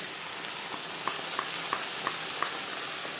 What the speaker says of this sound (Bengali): পেঁয়াজ হালকা করে ভেজে নেওয়ার পর দিয়ে দেবো মশলার পেস্ট